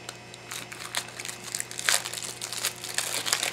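Scissors cut and tear through plastic toy packaging, giving crinkling and crunching snips and rustles at close range, irregular and moderately quiet.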